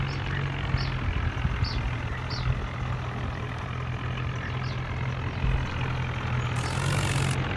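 A tractor engine pulls a loaded trolley with a steady low rumbling drone, close and continuous, with a few faint knocks and rattles over the top.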